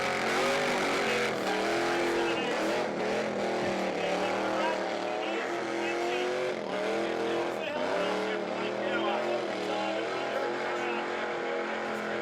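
A car doing a burnout on a tight, confined burnout pad at an Australian burnout competition, its engine screaming loud and sustained with shifting revs and tyre roar throughout, while a commentator talks over it.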